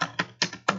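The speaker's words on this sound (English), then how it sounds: "So I'll just start typing." Keys tapped on a computer keyboard while working in Canva: four crisp, close clicks spaced unevenly across under a second, with no voices.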